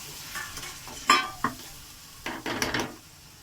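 Water used to rinse the spices is poured into a pan of frying meat, giving short bursts of hissing sizzle. Scraping stirring strokes and faint utensil clinks sound between quieter stretches.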